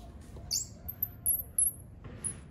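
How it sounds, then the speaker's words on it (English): A bird chirps outdoors during a spring walk: short, high, faint calls recur several times over a low background rumble. "You hear that bird?"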